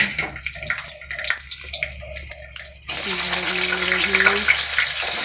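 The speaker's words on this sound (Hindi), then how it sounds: "अब इसी घी में मैं आलू फ्राई कर लूँगी ताकि सालन जल्दी जल्दी में बन जाए" Potatoes drop into hot ghee in a pan and set off a sudden loud, continuous sizzling roar that follows a quieter stretch of lighter kitchen sounds.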